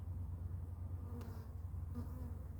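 Dense, steady droning of many honeybees buzzing close by in an opened hive during a February inspection, a low continuous hum with a few brief sharper passes.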